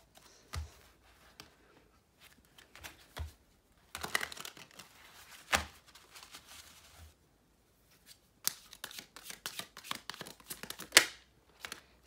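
Tarot cards are shuffled in irregular, soft riffling bursts with brief pauses between them, close and fairly quiet.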